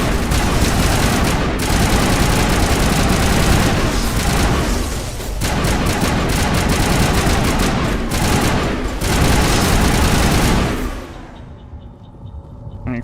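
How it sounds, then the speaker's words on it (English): Sustained gunfire in the video game Mass Effect 1, with dense, rapid shots and booming impacts that are loud and continuous for about eleven seconds before thinning out. "They're running from my bullets, Ashley."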